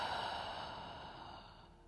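A long exhale through the mouth during Pilates breathing, a soft close breathy sigh that fades out over about two seconds.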